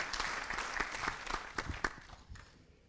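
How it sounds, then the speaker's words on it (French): A modest conference audience claps in scattered, distinct hand strikes that thin out and fade toward the end, fairly quiet and without speech. "on peut applaudir"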